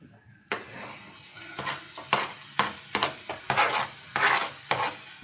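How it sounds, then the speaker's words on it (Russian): Chopped onion and carrot are stirred as they fry in a pan. Rhythmic scraping strokes of a spatula come every half second or so over a light sizzle, close and clear, with no talking. "Перемешиваем. И слегка обжариваем."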